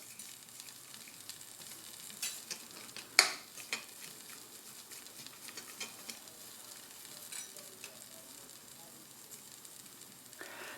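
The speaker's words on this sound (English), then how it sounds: "Now when you saute vegetables," Onions sautéing in melted butter in a pan give a quiet, steady sizzle, with a few light clinks of a utensil against the pan scattered throughout.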